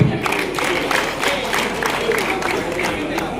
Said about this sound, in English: let us give a good clap, Cynthia Jerop.